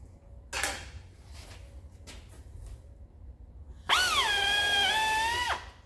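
A pneumatic drill with a number 30 bit whines loudly for about two seconds, its pitch dipping as it bites into the metal of an aircraft gas tank, after a few short clicks and clunks.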